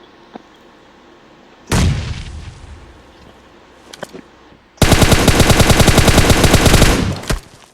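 Gunfire in a PUBG match: a couple of heavy single shots, then a long, loud, rapid automatic burst of evenly spaced rounds, close by, with no voices over it.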